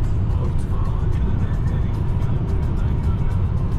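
Car cruising at about 150 km/h on a highway near Almaty, Kazakhstan: a loud, constant road and engine roar with wind noise, steady throughout and free of talk.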